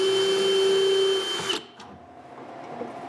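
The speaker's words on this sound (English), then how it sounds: "I punch the side panel and drill some screw holes." A power drill whines at a steady pitch boring a screw hole into a wooden drawer side panel, then winds down and stops after about a second and a half, leaving quiet room noise.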